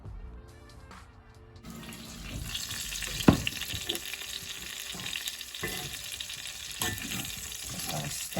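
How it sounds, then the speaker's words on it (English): Food being stirred in a frying pan, a faint sizzle with scraping and clatter of the utensil, including one sharp knock near the middle, and soft watery hiss underneath. "Just gonna stir these up a bit and then plop them right back down."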